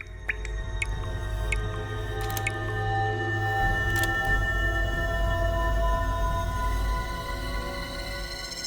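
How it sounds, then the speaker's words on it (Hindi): Scattered drips of water land irregularly inside a mansion against a steady low hum, with a few sharp taps standing out near the start. "ये पानी टपकने की आवाज है।"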